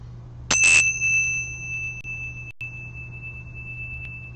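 A single ritual bell is struck during a Thelemic Gnostic Rosicrucian Mass, giving one clear, bright ring that sustains and slowly decays over several seconds in a quiet room with a low steady hum.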